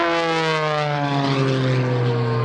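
An aerobatic propeller airplane at the 2017 Rhode Island ANG Open House airshow roars loud and close, its engine tone holding steady and then sliding gradually lower as it pulls through a maneuver, with no talking.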